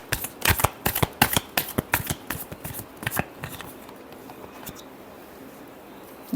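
A deck of tarot cards is shuffled by hand during a reading, giving a quick run of crisp riffling snaps that fade into quiet rustling and then silence.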